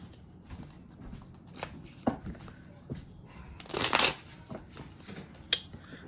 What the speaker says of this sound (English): we all shuffled up, lay them out, pick them back up